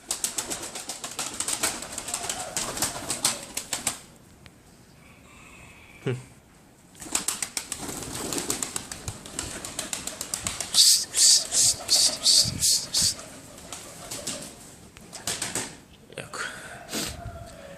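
Pigeons flutter and coo in bursts, with wings flapping and scattered bird calls between quieter stretches.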